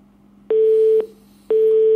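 A telephone busy tone after a call is cut off, two evenly spaced half-second electronic beeps, loud and close with no talk.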